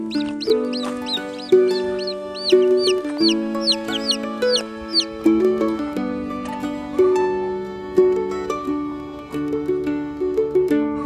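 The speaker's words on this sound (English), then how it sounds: "There's 5 chickens there, hatched out." Several newly hatched chicks, including a barred rock, peep and cluck in a brooder, with high chirps repeating rapidly at first, then softer clucking and peeping continuing nearby without pause.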